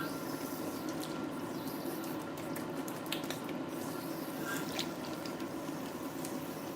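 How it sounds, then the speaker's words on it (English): Cool tap water runs steadily over a wig during rinsing, a constant hissing splash with faint dripping and squishing of wet hair, even in level throughout and without talk. "I'm using cool water to rinse out this wig."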